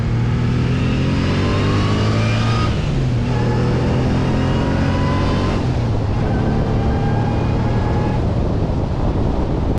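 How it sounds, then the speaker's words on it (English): A supercharged Subaru Legacy engine revs hard through the gears, each rising whine and roar cut by a brief dip at the shift, loud and close, with wind noise and no talk. "Each time you bang through a gear, that supercharger is like, let me sing you the song of my people."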